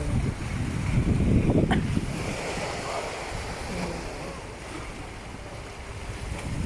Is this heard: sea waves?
yes